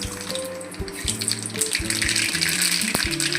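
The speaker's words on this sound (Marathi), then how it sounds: "पण आधी राई टाकूया" Mustard seeds hit hot oil and crackle into a loud, steady sizzle, with sharp popping bursts rising over a hissing bed.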